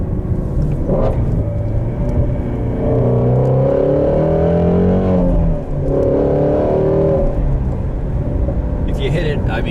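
A 2018 Shelby GT350 Mustang accelerating hard from inside the cabin, a loud rising engine roar that climbs in pitch through gears with brief dips, and occasional voices nearby.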